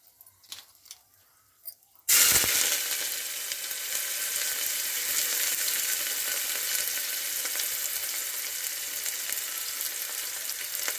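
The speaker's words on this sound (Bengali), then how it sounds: "পেঁয়াজ কুচিগুলো আমি তেলের মধ্যে দিয়ে দিলাম।" Chopped onions hit hot oil seasoned with whole garam masala for beef biryani: after a brief quiet lead-in, a sudden loud hiss rises and settles into a steady, close crackling sizzle that continues to the end.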